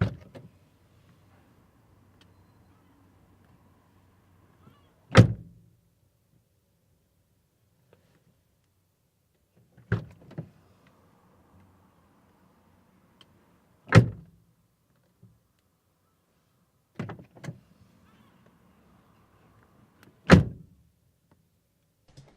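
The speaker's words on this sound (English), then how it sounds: "So that's the sound of like just basically the door getting opened with the shotgun microphone" A car door inside the cabin is opened and shut repeatedly, captured with a shotgun microphone: five sharp, close thumps and clunks spaced several seconds apart, with faint mechanical rustling between them in otherwise near silence.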